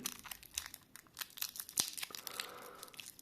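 Coins wrapped in cellophane and adhesive tape being unwrapped, giving close crinkling, tearing and crackling in irregular bursts with no talking.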